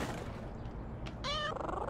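A cat meows in the video game Little Kitty Big City, one short mew near the end over a steady background of game ambience.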